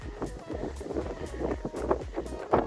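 Strong coastal storm wind at Robe in South Australia, gusting at around 50 knots, buffets close and loud in rough, uneven rumbling bursts.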